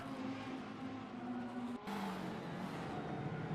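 GT race cars, including a Lamborghini, McLaren, Ferrari and Mercedes, roar into the first turn at Interlagos in a racing game, with a steady engine drone, a brief cut at a gearshift, then the engine note climbing again.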